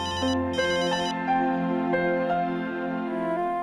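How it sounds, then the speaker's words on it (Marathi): A phone plays a steady melodic ringtone while an outgoing call connects, loud and close, with no voices over it. "तात्या काकांना फोन लाव."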